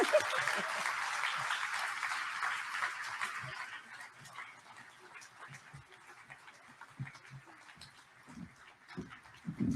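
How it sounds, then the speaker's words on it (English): At an evening charity event, an audience claps in a burst of applause that fades after about four seconds, leaving scattered quieter sounds. "if you would please give an applaud to"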